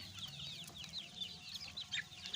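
Desi chickens cluck softly and continuously while pecking at neem leaves, a cluster of faint, busy bird calls close by with no talking.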